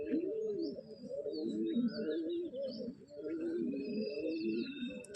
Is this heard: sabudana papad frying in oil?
no